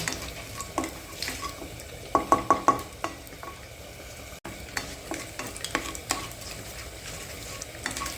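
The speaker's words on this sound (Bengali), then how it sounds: "জিরে, তেজপাতা, হিংটা ভালো করে নাড়িয়ে" Cumin seeds, bay leaf and asafoetida fry in hot oil in a pan while a spoon stirs them, giving steady sizzling with a cluster of sharp scraping knocks in the middle and lighter clinks afterward.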